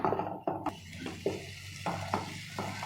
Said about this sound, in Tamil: நல்லா தீய விடாமல் சிம்மில் வச்சுட்டு கொஞ்சம் எண்ணெய் பிரிஞ்சு வர வரைக்கும், பச்சை வாசம் போகிற வரைக்கும் வதக்கி விட்டுக்கலாங்க